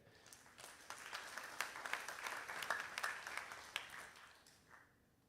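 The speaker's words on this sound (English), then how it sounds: "Let's give applause to welcome the Professor Hsin." An audience at a high school students' conference on the SDGs applauds to welcome a professor, a soft, fairly distant patter of clapping that swells slightly and then fades out at the end.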